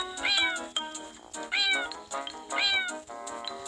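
A cat meows three times in a row, loud and close, each call a drawn-out rising whine with short pauses between.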